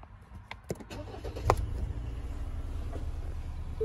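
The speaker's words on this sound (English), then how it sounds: "turn the engine on" A Ford Ranger Raptor 2.0 EcoBlue double cab's engine cranks and catches near the mic via a start-stop button, with a few clicks and a jingle beforehand, then settles into a low steady idle.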